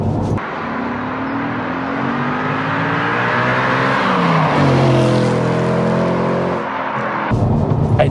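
Audi RS4 B7, a mid-2000s four-wheel-drive performance car, heard from inside accelerating hard, engine note climbing steadily through a gear, then a brief dip at the shift and a renewed pull.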